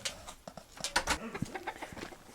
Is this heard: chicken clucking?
yes